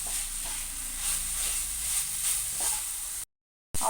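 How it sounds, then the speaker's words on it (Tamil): Spring roll vegetable filling with chilli powder sautéing in a pan, a soft continuous sizzle with faint stirring scrapes, no voices, cutting out briefly near the end. "எல்லாத்தையும் சேர்த்து நல்லா வதக்கிக்கலாம்."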